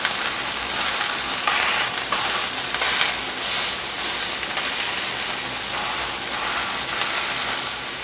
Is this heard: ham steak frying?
yes